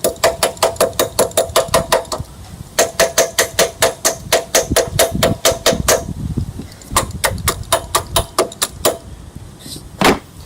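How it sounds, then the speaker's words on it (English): A hammer taps rapidly on a lawn mower carburetor in quick bursts of sharp metallic knocks, close and loud, with short pauses between runs and a faint engine rumble underneath. "Sometimes tapping a good old carburetor will get it started."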